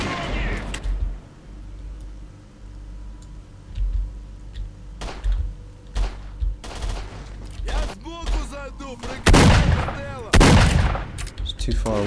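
Gunfire in the video game S.T.A.L.K.E.R.: Lost Alpha: a few scattered loud, sharp blasts with some echoing tails, the heaviest pair near the end, over quieter ambience and occasional speech.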